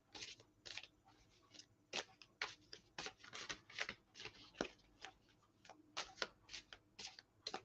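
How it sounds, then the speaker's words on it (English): Large tarot cards being shuffled by hand, a quiet run of crisp rhythmic riffles and slaps close by, with no talk. "I have to shuffle like that because they're bigger, okay, than other cards."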